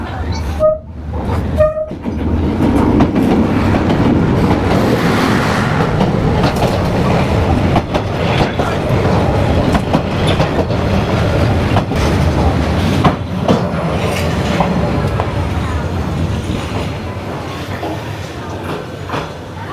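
A train rumbles and clatters past at very close range along a narrow Hanoi street lined with buildings, loud and continuous for nearly twenty seconds, with faint voices at the start.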